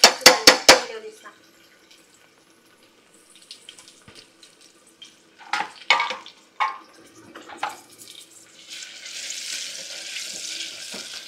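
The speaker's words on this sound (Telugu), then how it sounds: "ఇప్పుడు కుక్కర్ వేసి దాంట్లో నూనె వేసి ఒకటిన్నర పావు ఇప్పుడు ఉల్లిగడ్డలు వేస్తున్నామండి" Chopped onions go into hot oil in a pressure cooker, with a few sharp clinks of utensils at first, then scattered clatter and a soft sizzle building near the end; a voice may be faintly present.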